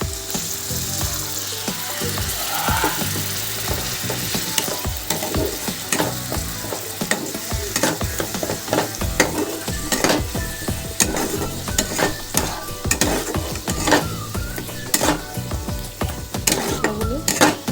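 Bengali-style spice paste for pomfret fish curry, with coriander, Kashmiri chili and turmeric powders and a splash of water, fries loudly in a pan under constant close spatula scraping and clattering, with no voices.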